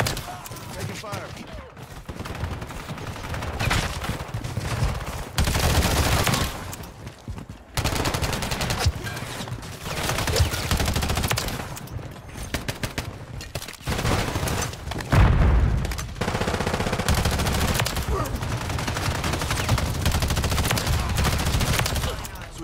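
Sustained gunfire from a BAL 27 rifle in the Modern Warfare 3 shooter, with dense bursts of automatic fire and booms in several loud stretches broken by short lulls, and a player talking at times under the shooting.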